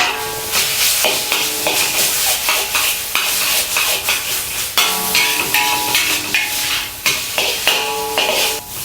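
Minced meat seasoned with salt sizzles loudly in a pan while a utensil stirs and scrapes it in repeated strokes, with no talking.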